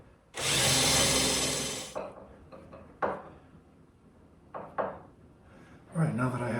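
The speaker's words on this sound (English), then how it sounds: "we'll drill the next hole" A power drill bores a screw hole into a wooden furniture door during hinge replacement, one loud steady burst of about a second and a half, followed by quieter handling knocks and rubbing.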